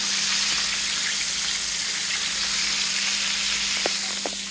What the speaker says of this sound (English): I'm just frying some chicken